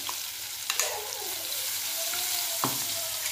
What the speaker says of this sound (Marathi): थोडा लसण परतून घेऊया